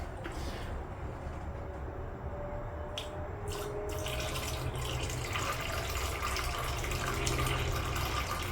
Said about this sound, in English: The heater core hose is filling.